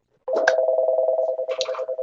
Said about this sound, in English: My phone shouldn't ring very often, so my apologies if it does.